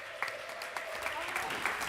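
Applause from a live holiday-show audience welcoming two finalists back for a third and final round, a steady, fairly faint wash of clapping with a few sharper claps rising out of it.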